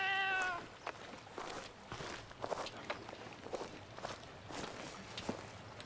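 Cat in the medieval game Bandit Brawler gives a short clear meow at the start, followed by a run of quiet soft footsteps.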